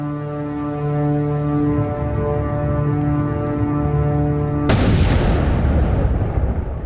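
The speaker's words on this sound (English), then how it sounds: "I added that explosion at the end because Cinematic effect." Cinematic explosion effect: after a long sustained musical drone, a sudden loud boom bursts in and rolls on as a broad, rumbling roar until the end, with no voices.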